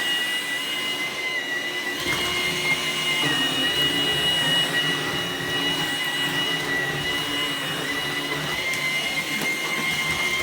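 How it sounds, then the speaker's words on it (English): Ryobi cordless stick vacuum running on a nearly depleted 2Ah battery, a steady high-pitched motor whine with a faint hum, continuous and close for about ten seconds, with no talk. "I can actually hear the motor slowing down a little bit"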